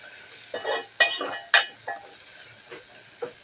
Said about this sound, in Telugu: పసుపు వేసుకోవాలి, మంచిగా కలుపుకోవాలి.